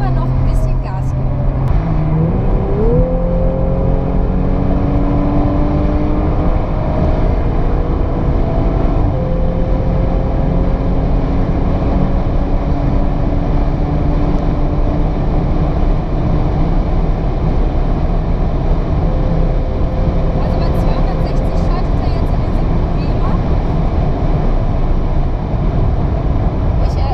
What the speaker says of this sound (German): Ich würde gerne einmal noch ein bisschen Gas geben.